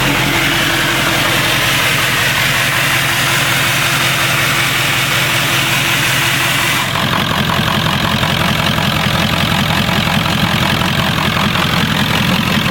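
A 1996 Ford F350 with a 7.3 Powerstroke diesel, converted to an electronic fuel pump, idles loud and steady, its rough clatter running throughout with a shift in tone partway through; no voices.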